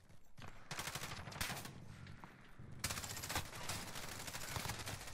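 A teammate's gunfire in Call of Duty Modern Warfare, quiet, steady bursts of automatic fire that keep rattling on in the background, briefly pausing before resuming.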